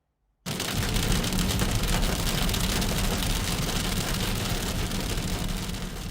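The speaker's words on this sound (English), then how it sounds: "with hail pounding down in some areas yesterday afternoon" Hail pounding down on the South Island on a spring afternoon, a dense, loud, continuous roar of impacts that starts abruptly and holds steady with no voices.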